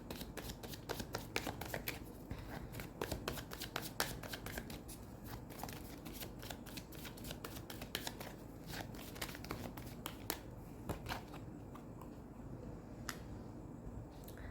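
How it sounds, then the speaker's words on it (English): Tarot cards are shuffled and picked in a long run of quick, crisp riffling flutters and soft slaps, close and fairly quiet, continuing steadily without talk. "We'll pick a few more cards out."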